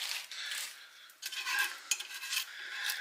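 A spoon works a sticky peanut butter mixture through Chex cereal in an ungreased pan, giving steady close rustling and scraping strokes with brief pauses, no talking.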